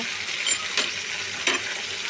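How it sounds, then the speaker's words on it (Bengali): Vegetables fry in a pan with a steady, hissing sizzle, and a few brief scrapes of stirring break in at intervals, heard close and fairly quiet, with no talk. "দেখো, সবজিটা ভাজা হয়ে গেছে।"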